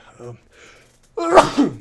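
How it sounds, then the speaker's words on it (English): A single loud sneeze bursts out after a short stretch of quiet vocal sounds, close to the listener and sharp. "I gotta sneeze."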